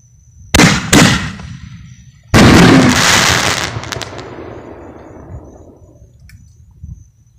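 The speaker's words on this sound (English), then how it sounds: "These are red apple fireworks." Red apple fireworks bursting at a firework show: two sharp close bangs, then a bigger booming burst with crackling that decays over several seconds into a fading rumble, loud and without talking.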